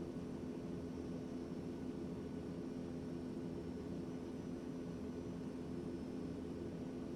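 Aircraft engine in a flight simulator game on a flight over foothills, a steady droning hum with low rumble that stays even and constant as the throttle eases back slightly.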